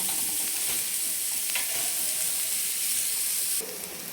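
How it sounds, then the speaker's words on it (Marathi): Onion fries in a pan as the base for a spicy chicken masala, giving a dense, constant, close sizzle with brief stirring scrapes. The sound drops a little near the end. "हा बघा आपला कांदा आता छान असा भाजत आलेला आहे"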